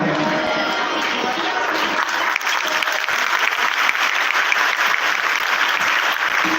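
Dense, steady applause from a large crowd at a devotional discourse gathering in Maharashtra, many hands clapping continuously at a loud level throughout.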